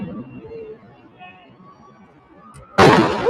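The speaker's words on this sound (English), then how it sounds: "Hanging out too long at a riot when the rubber bullets start flying." A rubber bullet fired at a riot in Los Angeles, a single sharp loud bang near the end, after quieter background murmur and voices.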